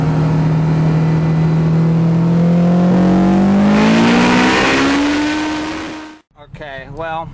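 A turbocharged car engine revs hard and climbs steadily in pitch through a long pull, loud and close, then cuts off abruptly before a brief lower rev.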